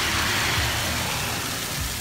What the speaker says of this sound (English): there's still traffic going here at midnight here on North Street